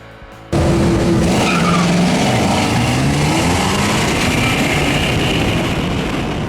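A Mitsubishi Eclipse GSX running 22 psi of boost launches hard down a drag strip. Loud engine roar and screeching tire squeal burst in after a brief quiet start and carry on steadily.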